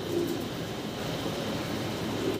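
A pair of fancy pigeons, including a grizzle-coloured bird, making soft, low cooing calls under steady loud background noise throughout.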